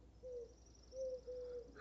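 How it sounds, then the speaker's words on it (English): Birds call outdoors in a quiet setting, a few short, clear tonal notes spaced apart over faint background hiss, moderately near and alone. "notice the sounds, the birds."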